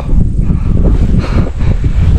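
Steady, loud wind roars and buffets the microphone at Sitio Baag, Tarlac, with rustling gusts rising and falling throughout.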